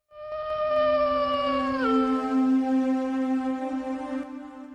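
Dogs howl eerily in long, sustained wails that drift and overlap, one dropping in pitch while another holds a steady low tone, a horror sound effect in a ghost story, with no voices.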